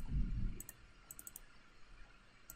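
A quiet computer mouse double click, a brief pair of sharp ticks near the middle over a soft room hush, followed by a few more faint isolated clicks, with no voices.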